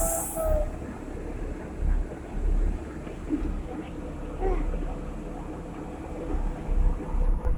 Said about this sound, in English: Tram papuntang Kennedy na.